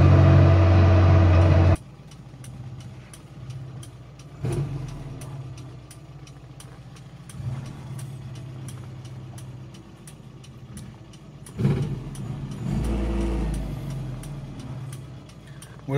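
A 1985 Austin Mini runs while driving, a low, mid-level engine hum with periodic swells and clicks after an abrupt louder opening burst.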